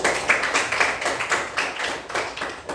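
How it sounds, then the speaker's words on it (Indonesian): Classmates clap for a student named Arya after his presentation, a loose, uneven patter of hands in a classroom, fairly close and steady for a few seconds with no talk over it. "Tepuk tangan buat Arya"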